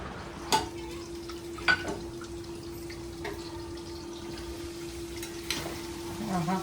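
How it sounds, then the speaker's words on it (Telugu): Chicken frying in a pan with green chilli and chilli powder, a soft steady sizzle with a few sharp clinks of a spoon against the pan and a faint steady hum beneath. "ఇంకొక నిమిషం ఫ్రై అవనిద్దాము"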